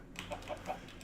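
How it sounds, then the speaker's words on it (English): Minecraft chickens cluck in the game, several short, soft clucks spaced a beat apart over faint background sound, with no voices. "Look at all these chickens."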